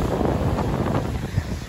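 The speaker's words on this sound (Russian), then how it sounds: "Вот конкретно сейчас мы на море" Seaside ambience on a summer trip to the Russian coast, with strong wind buffeting the microphone over a rough, continuous rush of waves and surf, loud and close, without speech.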